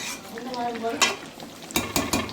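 Food frying in a pan, loud close sizzling with scraping stir strokes from a utensil repeating across the short stretch.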